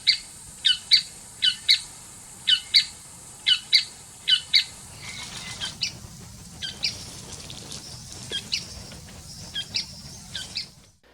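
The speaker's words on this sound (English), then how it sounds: "Playback is when you use the bird call." A recorded bird call is played back to draw in endangered birds. Sharp, evenly spaced squawking calls repeat at the start, then fainter, more varied chirps and calls follow, heard clearly with no talking.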